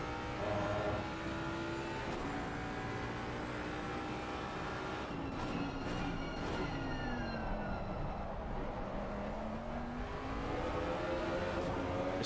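Race car engines whine at high revs in a sim racing game at Belgium, the tone rising and falling through gear changes, with several cars overlapping loudly and continuously and no talk over them.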